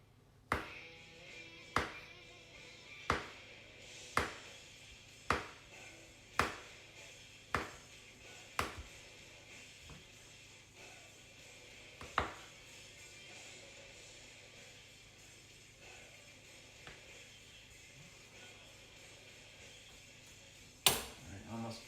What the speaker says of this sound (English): Almost done chopping these